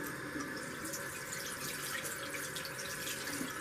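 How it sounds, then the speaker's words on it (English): Running tap water pours steadily onto a makeup sponge being rinsed and squeezed in a sink, a continuous close splashing hiss with small shifting gurgles throughout. "You want to squeegee it out underneath the water so the sponge really soaks up the water"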